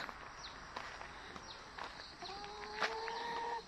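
Backyard chickens cluck softly at a distance, a few short calls and a drawn-out note over quiet outdoor ambience with faint scuffling.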